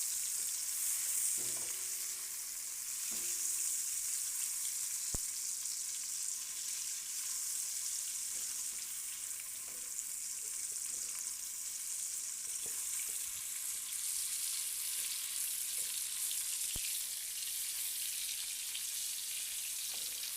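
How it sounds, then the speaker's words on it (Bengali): Shrimp and onion fry together in salted oil, giving a continuous bright hiss of sizzling close up, with a few faint clinks of a spoon and no voices. "একই সাথে চিংড়ি এবং পেঁয়াজটা ভাজা হচ্ছে"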